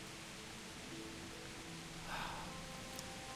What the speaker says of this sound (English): And it's raining, typical.